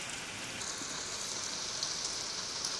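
Heavy monsoon rain falls in Maharashtra, an even, soft hiss of downpour heard steadily and fairly faint throughout, with no voices.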